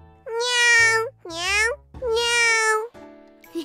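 A voice imitates a cat with three long, sung, cartoon-like meows, loud and close, separated by brief gaps.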